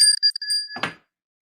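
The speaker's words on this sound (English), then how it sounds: "Ring the bell." A bell rung in quick repeated strikes, bright and clear like a bicycle bell, followed by a short clattering rattle before it falls silent.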